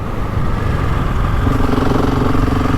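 A GasGas ES 700 motorcycle engine running steadily nearby, a continuous low throbbing rumble that holds an even level throughout with no talking.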